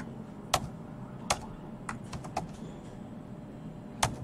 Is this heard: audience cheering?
no